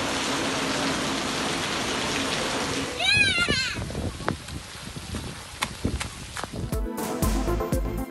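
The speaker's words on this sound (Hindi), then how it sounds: "कराची के मुख्तलिफ इलाकों में बारिश का आगाज" Heavy rain falls across Karachi streets as a steady, dense hiss for the first few seconds, then gives way to scattered splashes, drips and traffic-like noise, all fairly loud and close.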